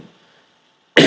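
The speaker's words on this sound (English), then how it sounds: "we're coughing and spluttering here" A single loud, close cough bursts out right at the end after near silence, with no talking.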